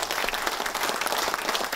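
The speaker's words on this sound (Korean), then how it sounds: "이영국 원내대표 힘내라고 좀 큰 박수 한번 주세요." Brief, dense burst of applause from members at a political party meeting in Korea, a loud continuous patter of many hands with no voices over it.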